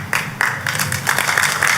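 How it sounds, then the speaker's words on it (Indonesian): Congregation applauding during a sermon in an Indonesian church, a steady wash of many hands clapping that swells in bursts throughout, fairly close and continuous. "Jangan tepuk tangan dulu, Pak."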